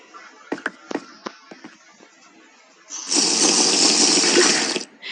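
In a horror video game, a tap runs for about two seconds as a steady, bright rush of water. It follows several sharp clicks and knocks and then cuts off abruptly.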